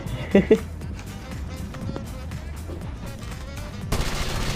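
Two sharp gunshots ring out early in a Power Rangers video game, followed by scattered fainter shots and steady rumbling battle noise, with voices in the background.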